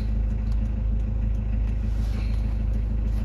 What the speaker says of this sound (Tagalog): Ignition coil lang pero may noise kang maririnig sa dulo ng makina, sa parting crankshaft niya.